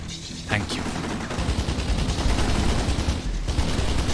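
Kane & Lynch gunfire in a game battle: rapid bursts of shots crackle over a steady noisy backdrop, with a brief yelp-like sound early and continuous firing toward the end.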